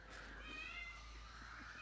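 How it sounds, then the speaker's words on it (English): A cat gives a faint, drawn-out meow against quiet outdoor background noise. "The cat is just following us around."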